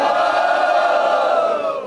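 A live rap battle audience roars for the MC AJ at a freestyle battle event, a dense sustained cheer of many voices lasting under two seconds and easing off slightly at the end.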